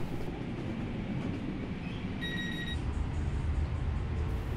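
Riding aboard the LAX airport transit train, a low rumbling rail roar fills the car continuously, with a brief high electronic tone chiming in partway through; steady and close, no speech.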